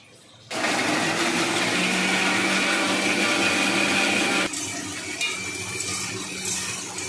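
Spices ground on a home kitchen grinder give a loud, steady whirring rumble that starts suddenly, runs for about four seconds, then drops to a lighter, rattling hum as the blades keep turning.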